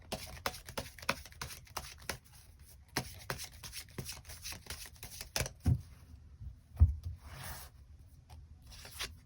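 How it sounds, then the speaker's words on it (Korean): Tarot cards being shuffled and drawn, soft close rubbing and light flicking with a quick irregular rhythm, quiet, with no talking. "추가 카드 뽑아보도록 하겠습니다"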